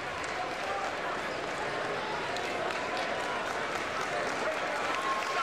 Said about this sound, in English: he should get a lot of applause here for his effort